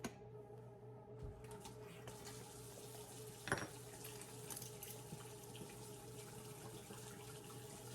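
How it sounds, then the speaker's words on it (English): Warm tap water running into a sink, a steady close splashing stream with a brief clatter partway through, quiet and continuous without talk. "I'm gonna run some water and get that ready."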